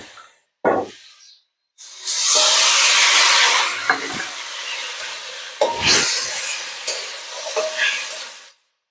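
Water from rinsing a bowl of poppy-seed paste pours into a pan of thin bata fish curry tempered with kalonji. A loud, sustained hiss and sizzle follows, with a few clunks of the bowl and a rising bubbling.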